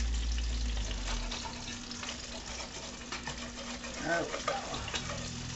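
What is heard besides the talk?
meatballs frying in a pan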